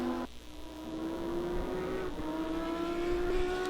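A GT3 race car at Zandvoort howls past, its engine note holding steady and climbing smoothly in pitch after a brief dip near the start, loud and close, with no talk.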